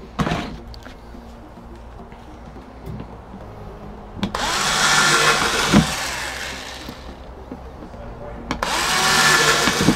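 Power drill boring ventilation holes into a plastic worm bin, a loud whining drill burst midway and another at the end, separated by quieter handling noise and clicks, close to the mic.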